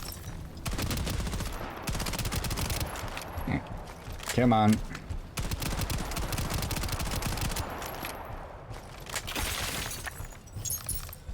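Dense, continuous gunfire in the video game Shatterline as a player shoots at anomalies, with rapid bursts, a shattering crack partway through and a voice briefly speaking over the loud firing.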